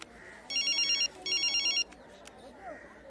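A telephone rings close by in two electronic trilling bursts separated by a short pause, then falls quiet, with faint background murmur and no clear talking.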